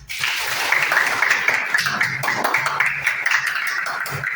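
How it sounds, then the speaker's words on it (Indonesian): A room full of people clapping steadily for several seconds, a fairly close, continuous patter of hands without any talking. "Kasih tepukan."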